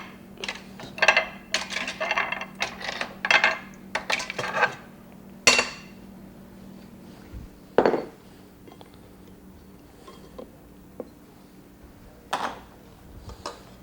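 A plate and cutlery are handled close by, with a run of sharp clinks and clatters early on, then a louder knock and a few scattered taps over quiet pauses.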